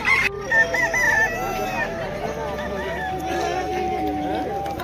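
Roosters crow repeatedly among many fowl gathered at a rooster fighting event, loud and close, with clucking and a busy crowd of voices talking underneath.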